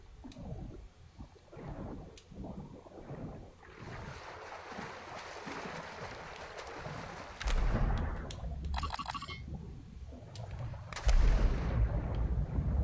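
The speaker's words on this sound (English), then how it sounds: "Hostile mortar strike in the area." Mortar strike explosions in the video game Apex Legends land as deep booming blasts over a steady rumbling background, with the heaviest impacts arriving late and growing louder near the end.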